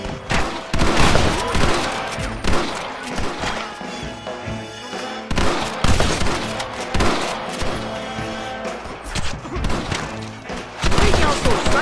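Heavy gunfire in the Western video game Red Dead Redemption during a shootout with enemies in windows: loud, dense, overlapping volleys of shots and impacts that keep going almost without pause, with shouting mixed in.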